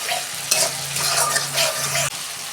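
Spices sauté in oil for a tengra fish curry, a close, steady sizzle broken by scraping stirring strokes and a brief clack near the end.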